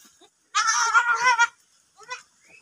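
A goat gives one loud, wavering bleat close by, followed by a couple of fainter, shorter calls.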